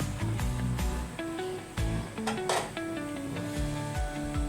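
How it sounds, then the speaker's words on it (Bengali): Stirring small fish bhuna curry in a pan, with scraping, clattering spoon strokes over a steady sizzle, beneath music with repeated tonal notes. "আমি যে ঢাকনাটা তুলে নিয়েছি এবং ভালো করে নেড়ে চেড়ে মিশিয়ে দিচ্ছি"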